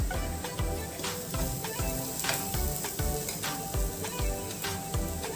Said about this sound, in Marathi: हे देखील आपण व्यवस्थित परतून घेणार आहोत